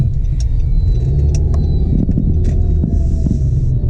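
A car heads north on the 405 San Diego Freeway, its steady road rumble and engine hum running continuously at close range, with faint passing traffic noises.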